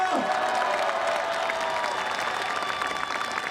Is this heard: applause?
yes